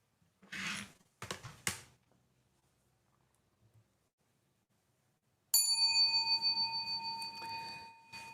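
A special bell struck once during a Buddhist sutra chanting session, ringing out with a bright, sustained metallic tone that decays slowly, heard alone after some soft knocks.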